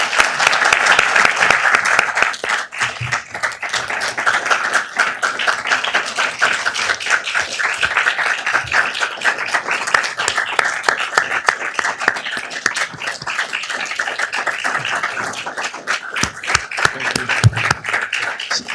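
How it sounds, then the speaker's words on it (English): Applause at a city council meeting in Downey for the city's chief: a dense, loud round of clapping from a crowd that stays steady for the whole stretch, with faint voices underneath. "Let's give him a round of applause"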